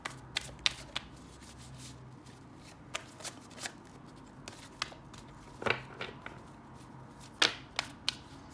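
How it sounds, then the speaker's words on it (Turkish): Tarot cards are shuffled by hand in scattered bursts, sharp riffles and snaps up close with quiet pauses between them. "Dilerseniz haydi gelin hep birlikte kartlarımızı karıştırmaya başlayalım."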